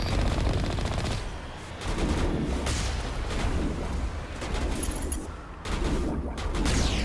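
Rapid cannon and gunfire bursts from a Mass Effect combat scene, dense repeated blasts in loud clusters separated by short lulls, with no voices.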